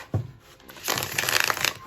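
A stiff cardstock tarot deck is shuffled close up: one sharp tap, then a brief pause before a dense, crisp riffle of cards that runs for about a second, with no talking.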